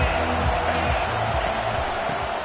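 Stadium crowd at a UCLA vs Nebraska college football game, a dense, continuous roar of cheering and noise filling the whole stretch.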